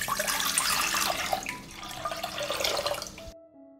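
Water poured steadily into a cooking pot for a dressing, a continuous splashing stream that stops abruptly near the end.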